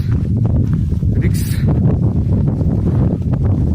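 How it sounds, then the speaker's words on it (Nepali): Strong wind buffets the microphone in loud, continuous low roaring gusts high on a mountain trekking trail toward Tilicho Lake, with a brief brighter gust midway. "हावा चाहिँ टन्नै लाग्यो यहाँ माथि धेरै लाग्यो।"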